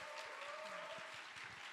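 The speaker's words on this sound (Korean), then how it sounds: "태국 CCCB에서 박수 한번 하도록 하겠습니다" Congregation applauding during a Sunday chapel service at a church, a steady wash of clapping held at an even level throughout, fairly quiet and diffuse, with a faint tonal hum running beneath.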